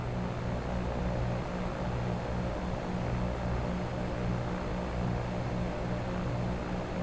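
A light propeller airplane in flight in the X-Plane flight simulator game, heard from the cockpit on approach, with a steady, even engine drone and airflow hiss throughout and no voices.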